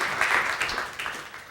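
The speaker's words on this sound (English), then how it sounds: "Can you just give downtown Salisbury a round of applause" Audience applause at a city address in downtown Salisbury, Maryland, a steady patter of many hands clapping at moderate volume, slightly distant, without talking.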